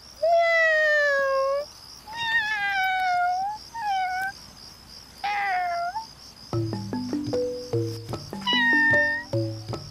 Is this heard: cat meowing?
yes